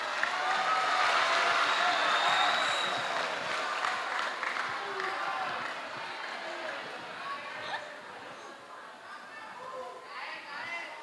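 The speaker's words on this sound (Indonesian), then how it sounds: "Tepuk tangan" A crowd of high-school students at an Islamic talk in an Indonesian school claps loudly, the applause swelling at first and fading over several seconds into murmuring chatter and voices.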